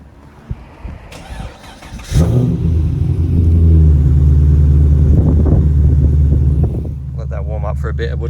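A manual Holden SSV Redline ute engine turns over briefly, catches with a loud rumble and settles into a deep, steady idle close by, with someone talking over it near the end.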